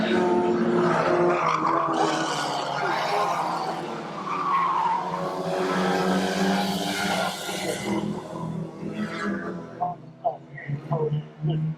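Stock cars race at a track with tyres skidding and squealing over a loud, continuous engine roar that swells and fades as cars pass, with a commentator's voice talking over it.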